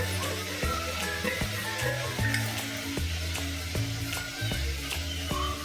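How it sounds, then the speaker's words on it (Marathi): Chicken rassa sautéing in a pan, a constant close sizzle broken by regular metallic clanks and scrapes of a spoon stirring throughout. "आता परत एकदा चांगलं परतून घेऊ."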